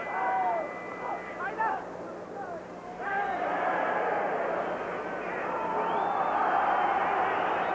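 Football fans at a 1979-80 UEFA Cup match between Stuttgart and Dinamo Dresden react to a referee's free-kick decision against Stuttgart, a loud sustained stadium crowd roar with whistles, swelling again after a brief dip.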